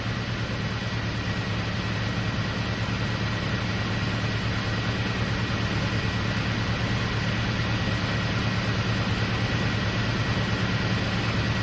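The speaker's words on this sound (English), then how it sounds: "so the engine's running." The 2.7L engine of a first-generation Toyota Tacoma idles at a steady, even rumble with a faint constant hum. It is loud and close, with no change in speed and no other sounds.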